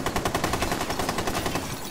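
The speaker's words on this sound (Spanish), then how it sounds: "No, no sabe por qué le estoy disparando" Rapid automatic gunfire from a tactical shooter game on the Consulado map, a steady burst of evenly spaced shots filling two seconds, loud and close with no talk over it.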